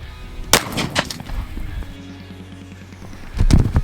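Shotgun firing a Federal Flight Control load at a 10-yard target, with two sharp, loud reports about three seconds apart, each followed by a short decaying echo and some faint handling noise.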